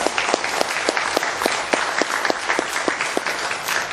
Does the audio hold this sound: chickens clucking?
no